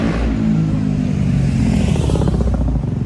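Motorbike going past outdoors, a loud rumbling engine that swells and revs across a few seconds, close and steady, with no talking over it.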